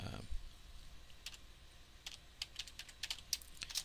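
Computer keys are tapped in scattered light clicks, a handful of quick keystrokes coming close together after a brief pause, fairly quiet and near.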